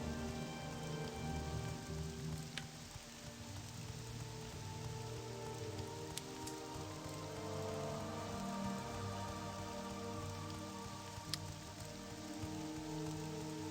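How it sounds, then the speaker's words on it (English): Steady rainfall in the video game Morrowind, a soft continuous patter of drops on surfaces with faint low ambient music beneath and no voices. "Rain. Wonderful, refreshing rain."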